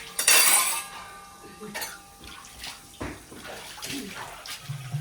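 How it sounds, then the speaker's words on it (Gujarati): Dishes are scrubbed by hand under running water in a home at midday: a strong gush of tap water at the start, then scattered clinks and clatters of pots and utensils at close range. "બપોરના વાસણ ઘસતા જોઈ"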